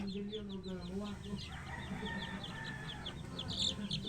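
A hen clucks and squawks agitatedly around her chicks, whose high thin peeps sound repeatedly nearby, with a voice talking faintly underneath.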